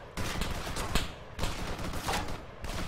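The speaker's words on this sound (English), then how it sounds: "Taking fire!" Rapid gunfire crackles in the Arma 3 military shooter, bursts of shots and machine-gun fire rattling in dense, overlapping volleys, loud and continuous throughout.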